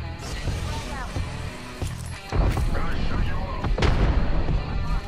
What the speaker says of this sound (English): I hit him with that grenade.